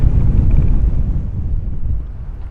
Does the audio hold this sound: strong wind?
yes